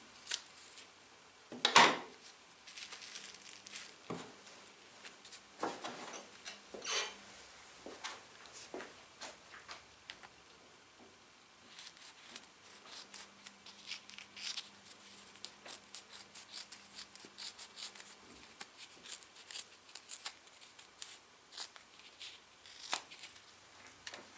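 Scissors cutting R&G Racing radiator guard strips for a Yamaha XJ6 Diversion F in a garage, a long run of irregular snips, rustles and handling clicks, close and fairly quiet.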